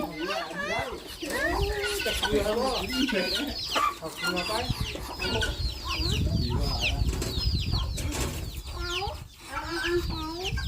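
Chickens cluck and squawk close by in a busy, overlapping chorus, with some wing flapping, turkeys gobbling and a voice talking underneath.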